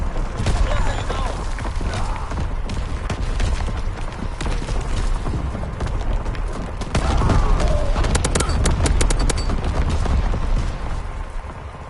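Heavy booms and crackling fire from an artillery barrage in Battlefield 1 roll on continuously, growing louder in a dense burst partway through, under radio-style voice callouts and battlefield noise.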